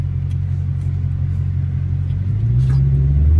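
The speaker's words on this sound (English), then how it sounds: "Well, that's a big Hemi though." 900 hp Dodge Hellcat with a big Hemi engine rumbling at idle, deep and steady up close, then swelling slightly louder as it revs a little near the end.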